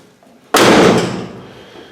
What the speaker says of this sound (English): The door is opening and closing good